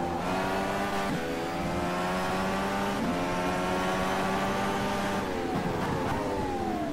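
An Indy car engine in rFactor 2 revs steadily and loudly through a corner. A continuous high whine rises and falls with several shifts in pitch as power is applied, heard close and alone.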